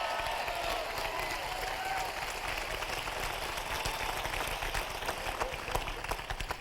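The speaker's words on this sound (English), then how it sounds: "Whenever we clap with enthusiasm and excitement" Enthusiastic audience applause at a 1993 Los Angeles seminar, a dense steady wash of many hands clapping throughout, with faint crowd noise underneath.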